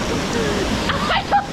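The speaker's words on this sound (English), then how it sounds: "That is a hell of a waterfall." A large rainforest waterfall pours with a steady, rushing roar, while a voice briefly sounds near the end.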